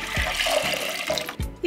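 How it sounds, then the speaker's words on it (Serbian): A litre of water poured into a pot for a brine marinade, a close splashing, gurgling stream with brief dips and bursts as the flow shifts. "Za to mi je potrebno litar vode koju ću sipati u jednu šerpu"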